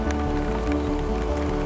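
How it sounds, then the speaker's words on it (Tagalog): Sudden heavy rain pouring down outdoors on a loop around the Seven Lakes of San Pablo City, Laguna: a dense, steady hiss of drops on surfaces, even and continuous throughout. "Biglang buhos"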